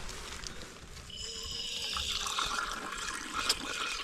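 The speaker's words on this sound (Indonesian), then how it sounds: "Nanti kita mau ngisi beberapa botol sebagai serep" Cold water runs and splashes steadily as bottles are filled at a mountain water post on a hiking trail, a continuous hissing stream that grows slightly fuller as it goes on, with no talking.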